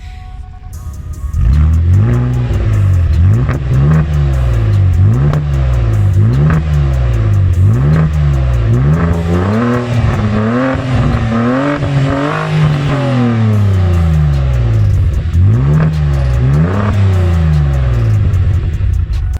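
A Vauxhall Vectra VXR engine with a back box delete revs up and down in repeated surges, loud and close, rising to a long high-pitched climb before dropping back.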